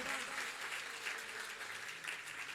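Steady applause from a large crowd at a Jain monk's sermon in Jaipur, faint and continuous for the whole stretch with no voices above it.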